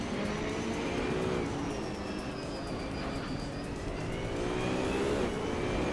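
A 2016 Audi R8 LM race car in a racing video game holds a steady, droning engine note with slight pitch shifts, loud and continuous with no talk over it.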